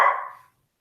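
A single short dog bark, loud and close, cut off quickly and followed by silence.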